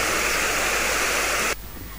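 A small, stony river runs in the countryside near Nabari in Mie Prefecture, its steady, loud rushing water heard up close for about a second and a half before it cuts off to a quieter background.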